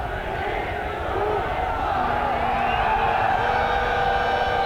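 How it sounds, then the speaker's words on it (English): A large stadium crowd at the 1994 men's field hockey World Cup final in Sydney, Pakistan against the Netherlands, roars and chants as the first half runs out, a dense sustained swell of voices that builds slightly, with a commentator faintly audible beneath. "The crowd counting down the first half."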